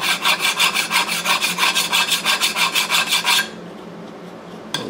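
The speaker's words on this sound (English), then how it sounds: "they're gonna hit that with a file" Metal file filing a burr on the cylinder head of an 11 HP Briggs engine, loud, close rhythmic rasping strokes, about fifteen in quick succession, then stopping and followed by quiet with a small knock.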